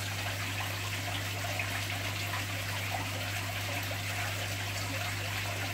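Fresh water trickles and splashes steadily into a shrimp aquarium during a water change, a continuous soft pouring under a constant low electrical hum, with no talking.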